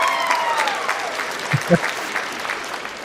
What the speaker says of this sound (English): Hey, I'm gonna give applause for that.